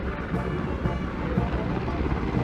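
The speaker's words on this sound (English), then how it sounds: "Mi-17 V5 helicopters of the 155 helicopter unit" Mi-17 V5 helicopters fly over the Republic Day parade at Rajpath, New Delhi, producing a steady, loud rotor and engine rumble that fills the whole stretch without a break.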